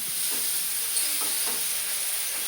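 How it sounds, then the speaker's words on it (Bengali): Prawns fry in a pan with a constant close sizzle and hiss, plus a few soft stirring scrapes. "খুব একটা বেশি কিন্তু ভাজবো না বেশি ভাজলে আবার শক্ত হয়ে যাবে চিংড়ি মাছ"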